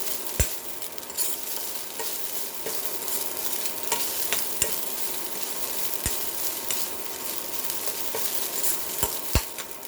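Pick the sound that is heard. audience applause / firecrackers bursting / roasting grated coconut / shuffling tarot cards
roasting grated coconut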